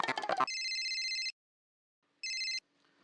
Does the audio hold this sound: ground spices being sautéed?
no